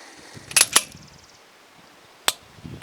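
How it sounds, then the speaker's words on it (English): Trigger pulls on a compact concealed-carry pistol, either a Sig P365 XMacro or an FN 509 CC Edge, give sharp metallic clicks: a quick pair near the start, then one more later. They sound close and crisp against a quiet room. "Trigger pull"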